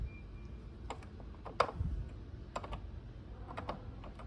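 Keys on a Behringer Swing compact keyboard clack mechanically under the fingers: a handful of scattered, fairly faint clicks over a low steady background, with no voices.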